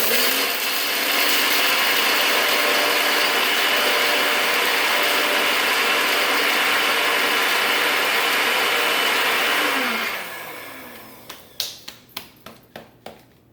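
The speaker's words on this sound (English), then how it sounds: "That all goes in my NutriBullet. Make it nice and tight. Grind it up." A NutriBullet blender grinds cloves and cardamom with a loud steady roaring whir for about ten seconds, then winds down into a string of sharp rattling clicks.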